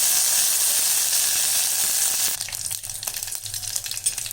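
Dried red chilli, green chilli and curry leaves hit hot oil for garlic rasam and burst into a loud, crackling sizzle. The sizzle quickly settles into quieter popping and spattering with scraping stir sounds.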